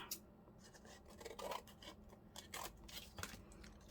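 Scissors snip through a piece of junk journal material close by, several short cutting and rubbing strokes at a quiet level with no talking.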